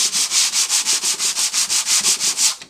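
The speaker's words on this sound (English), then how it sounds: "So what you want to do is just sand it." Hand sanding on the wood of an antique phone, a quick series of about fifteen even, rhythmic rasping strokes, close and loud with no talking.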